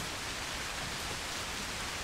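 Steady, dense rain in a Bigfoot-hunting video game, an even hiss of falling water that continues unchanged throughout, with no voices over it.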